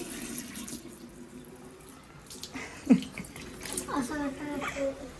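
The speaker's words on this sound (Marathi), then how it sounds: "नळ कमी ठेव" Tap water runs into a wash basin, a faint, steady trickle beneath people talking nearby, with a few brief splashes toward the end.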